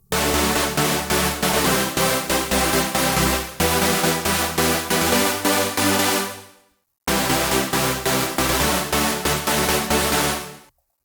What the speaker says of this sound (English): So this is the Supersaw chords.